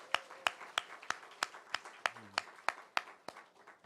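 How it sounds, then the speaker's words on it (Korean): A congregation in a Korean church claps in a steady rhythm during a Sunday worship service, about a dozen sharp even claps at a brisk pace, moderately loud, with a brief voice partway through. "박수합니다."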